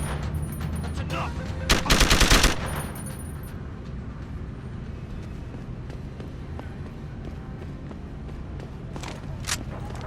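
Gunfire from the video game Deus Ex: Human Revolution: a short loud burst of rapid shots near the start, followed by a quieter stretch of game ambience with a few fainter shots toward the end.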